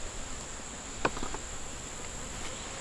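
A small honeybee swarm hums softly and steadily outdoors, a faint continuous buzz with a few brief taps and rustles.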